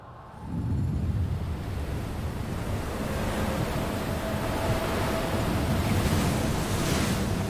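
Rough open-sea surf surges and churns in a loud, continuous roar, mixed with heavy wind buffeting throughout.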